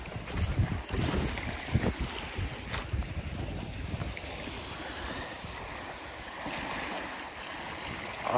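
Wind-driven waves wash and break near a flooded shoreline area, a continuous rough roar of surf and gusting wind noise, moderately loud and alone without talk.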